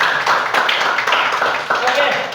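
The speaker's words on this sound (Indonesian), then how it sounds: "Tepuk tangan dulu." A class of students breaks into applause, a flurry of quick claps rising and fading over a couple of seconds in a roomy space, with chatter underneath.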